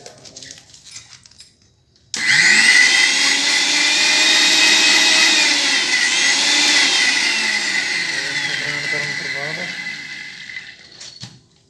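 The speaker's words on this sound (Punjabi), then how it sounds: "ਆ ਜਿਹੜੀ ਗੂੰਦ ਹੈ ਇਸ ਤਰ੍ਹਾਂ ਆਪਾਂ ਗ੍ਰੈਂਡਰ ਦੇ ਵਿੱਚ ਪਾ ਕੇ ਫਿਰ ਇਹਨੂੰ ਆਪਾਂ ਕਰ ਦਾਂਗੇ ਗ੍ਰੈਂਡ" An electric grinder whirs loudly and steadily as it grinds edible gum (gond), starting abruptly after a quiet moment and running for about nine seconds before cutting off, with a voice faintly beneath it.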